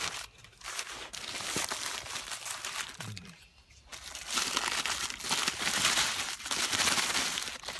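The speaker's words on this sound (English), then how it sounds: "Let's unwrap it." Paper wrapper around a Speedway applewood smoked bacon cheeseburger crinkles and rustles close by as it is unwrapped, in irregular crackly bursts with a short quieter pause midway.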